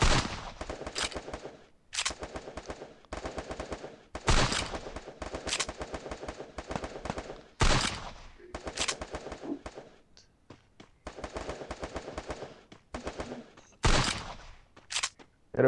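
Repeated bursts of USP pistol gunfire in a competitive first-person shooter match, sharp loud volleys of several rapid shots separated by short gaps, with quieter game noise between bursts.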